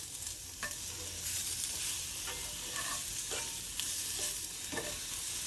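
Onions frying in a pan, pushed around steadily with a utensil: continuous close hissing sizzle with several soft scraping stirs spread through it, no voices.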